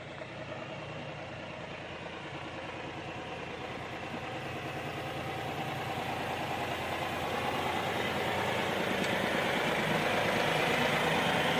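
A New Holland T4 60S tractor engine labors steadily while ploughing a muddy field, a dense continuous rumble with rattling that grows gradually louder, close and without talk.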